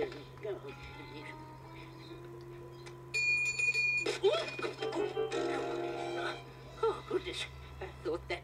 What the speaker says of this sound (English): I'm sure I heard the bell over the door.